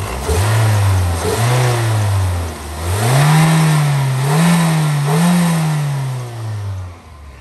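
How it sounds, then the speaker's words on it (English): A 2007 Toyota Yaris sedan's small gas engine being revved with the hood up, loud and close, rising from idle into several swelling rev surges that hold and waver before easing back down. "See if I can rev it up a little bit here with the hood up."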